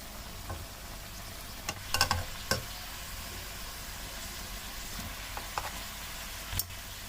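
Large chicken pieces sizzle steadily in a kadai while being turned, with a few sharp scraping knocks of the spoon against the pan, close and fairly quiet, no talking.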